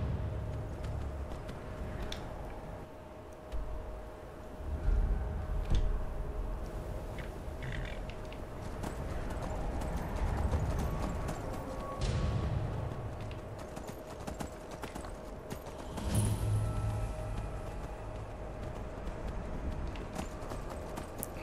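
Horse hooves galloping across terrain in the video game Skyrim, a continuous rhythmic clip-clop lasting throughout, rising and falling in intensity with brief whoosh-like shifts, no voices.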